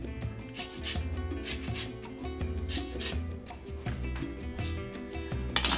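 A lime being zested on a handheld zester, with a series of short, close rasping rubs repeating in a steady rhythm and no talking.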